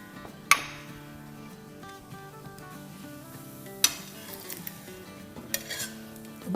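Churma dough roasting in ghee on a pan, a soft steady sizzle with a few sharp metal clinks and scrapes as it is flipped, heard close with no talking.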